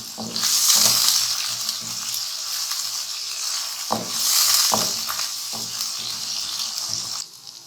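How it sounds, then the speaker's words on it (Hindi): Onions sizzle and fry in a pan with ginger garlic paste, a steady loud hiss with a few stirring scrapes and clatters, the sizzle swelling twice before dropping off near the end. "थोड़ा सा हमने प्याज को फ्राई करना है बस जिंजर गार्लिक पेस्ट के साथ"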